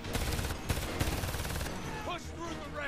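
Rapid bursts of gunfire from the video game Homefront, dense volleys in the first half, then quieter shots with whistling, zipping effects beneath faint talk.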